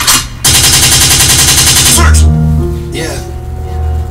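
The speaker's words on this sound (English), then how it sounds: "The gunshot means forward." Loud rapid automatic gunfire bursts out as a sound effect on a radio show, giving way to booming low tones and music.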